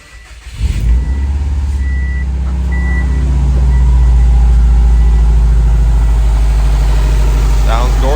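A 2006 Subaru WRX fires up for the first time after a new clutch and motor mounts, cranking briefly and then settling into a loud, steady, close idle that slowly builds and holds.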